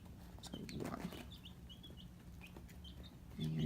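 Young chicks in a brooder box peep in faint, scattered high chirps, with soft rustling and some handling noise close by and a louder thump near the end.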